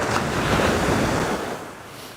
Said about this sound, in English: We've already got the water coming up the beach